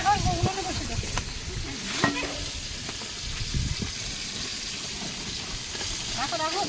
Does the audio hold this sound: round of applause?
no